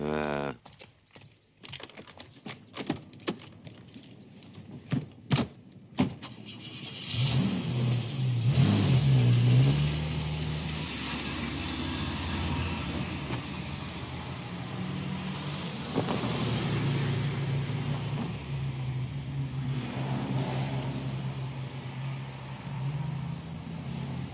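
A 1980s car starts with a few sharp clicks and knocks, then its engine revs up and accelerates, settling into a steady mid-pitched drone as it drives on, with a second rise partway through.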